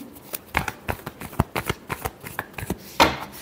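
Tarot cards are shuffled close up in a quick run of crisp riffling snaps, about a dozen rapid flicks ending in a final fuller slap of the deck.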